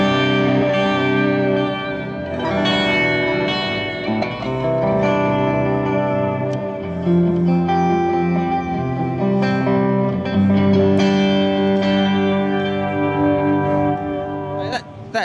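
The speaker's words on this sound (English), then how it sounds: "there's a slot before the amp section that is delay for your whatever slapback amp echo" A sustained electric guitar passage through a Eugen Kettner Replex tape echo, with repeating echoes trailing each note, a warm wobbling delay smearing the chords together, steady and fairly loud.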